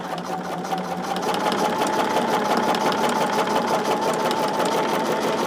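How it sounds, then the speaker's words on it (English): A sewing machine stitches quarter-inch seams along fusible grid lines on fabric for a pouch, giving a steady, rapid mechanical whir that runs on its own without pause. "going to sew all of these at that 1/4 inch on all of the grid lines"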